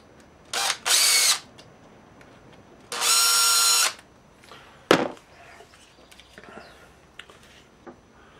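A power drill drives screws into a Kydex drop bracket for a knife sheath, giving two separate loud whirring bursts, each about a second long, with faint handling knocks and clicks between them.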